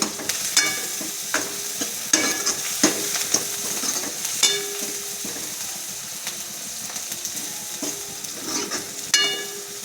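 Tempering spices and coriander seeds sautéing in a pan make a continuous sizzle, broken by repeated scraping and clattering strokes of a spoon stirring against the pan, close and fairly loud.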